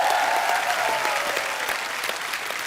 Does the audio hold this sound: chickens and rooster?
no